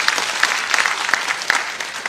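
A rally crowd claps for the candidate Kalita Majhi, steady dense applause with sharp whistles piercing through near the front, continuing loudly throughout without speech.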